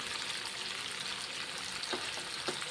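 Spicy chicken lollipop kababs frying in oil over a high flame, a steady close hiss of bubbling oil with a couple of faint pops, no voices.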